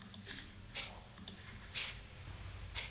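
Several sharp computer mouse clicks, close and fairly quiet, spaced irregularly across a quiet room while an image is resized in Windows 11 Photos.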